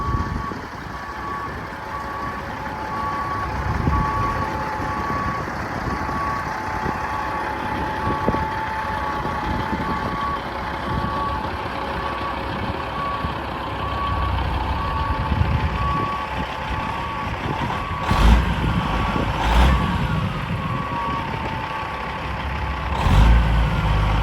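A Kenworth truck rumbles at idle while a steady, evenly spaced reverse alarm beeps throughout, with a few sharper clanks near the end.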